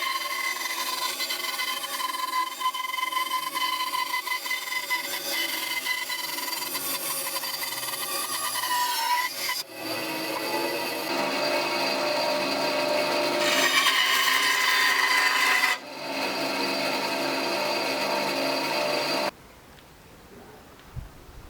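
Wood is sawn into pieces for a cosplay bow in a long run of steady rasping strokes, close and continuous, with brief breaks before the sound stops.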